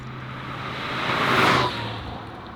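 A 1987 Pontiac Fiero GT with a 2.8-liter transverse mid-mounted V6 engine hums steadily nearby, swelling briefly louder in the middle before settling back to an even drone.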